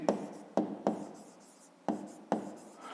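Handwriting an explanation for a 5th-grade maths exercise, close pen-on-paper strokes in five short scratchy bursts separated by brief pauses, heard alone without speech.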